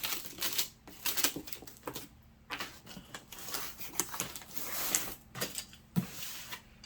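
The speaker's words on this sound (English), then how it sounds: "I'm going to tape the crap out of this, so you'd best believe it." Packing tape is pulled and pressed onto a package being prepared for shipping. Several short, rasping pulls and tears come in bursts, close but fairly quiet, with no talking.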